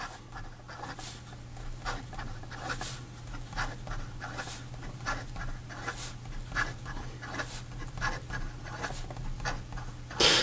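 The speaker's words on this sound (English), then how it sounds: "So then in regard to some fast writing," A broad steel-nib Montegrappa Game of Thrones fountain pen writes fast on paper, giving quick rhythmic scratchy strokes about twice per second over a low steady hum, close and fairly quiet throughout, with no talking.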